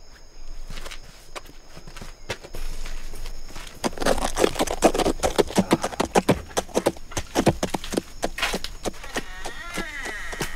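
A horse's hooves clop along at a farm, a steady run of sharp knocks that grows louder and nearer midway before easing off, heard on its own.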